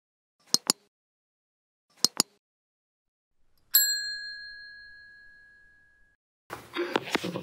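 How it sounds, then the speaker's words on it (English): A phone rings out through a quiet podcast room in three distinct bursts: two quick double trills, then a single bright ding that rings on and fades, before background noise comes back. "Phone going off in the middle of a shoot."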